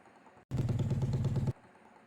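A motorcycle engine runs in a short one-second burst, a loud, rapid putter with a regular pulsing beat that cuts in abruptly and stops just as suddenly.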